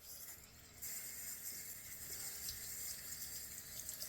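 Tap water runs steadily into a sink during a rinse after a wet shave, a close, continuous splashing hiss with no talking.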